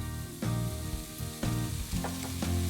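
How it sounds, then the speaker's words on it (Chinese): Marinated chicken breast sizzles in hot oil in a pan, a loud, close, continuous crackle with bursts of stronger spitting as marinade and water hit the fat, over faint music. "然后来煎肉，锅中倒一点油，先大火煎1分钟，锁住水分，倒入腌料，加点水"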